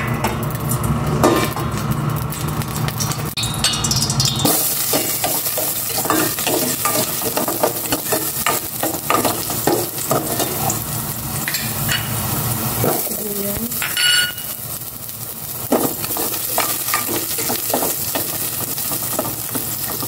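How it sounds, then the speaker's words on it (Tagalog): Cooking oil heats and sizzles in a pan for breakfast ginisang repolyo, a steady loud frying hiss broken by scraping stirs and clinks of utensil on the pan, with a brief louder sputter partway through. "Maglagay na ako ng cooking oil."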